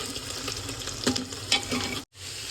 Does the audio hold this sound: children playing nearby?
no